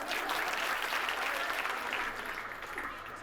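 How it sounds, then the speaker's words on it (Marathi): Audience at a lively Marathi comedy ukhana game show clapping loudly and continuously, a close, dense burst of applause that tapers slightly toward the end. "जोरदार टाळ्या वाजवा"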